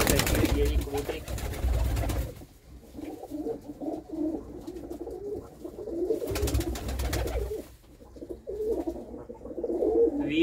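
Pigeons coo with low, soft, repeated calls near a hen pigeon sitting on her eggs, heard close by in bursts between quieter stretches.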